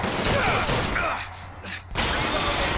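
Gunfire in the video game Bioshock Infinite comes as dense bursts of shots, fading and dropping briefly before another volley resumes, with a voice faintly underneath.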